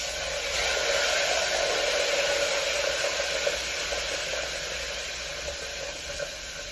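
A whole chicken frying in oil gives off a loud, steady hiss and sizzle that holds without letup, close and broadband, with no voices.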